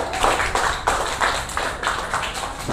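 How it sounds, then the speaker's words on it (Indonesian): Applause from a group of students in a classroom discussion session, a steady dense patter of many hands clapping throughout, moderately close. "kita beri tepuk tangan kepada Ibnu Sina"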